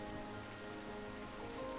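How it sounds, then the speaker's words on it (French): Rain falls in the video game Terra Nil as a soft, steady, continuous patter and hiss, even throughout, with no talking. "j'ai juste à laisser faire la pluie là, tranquillement"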